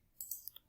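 Several quick plastic calculator key presses as a matrix is entered, a short cluster of soft, close clicks with no talk.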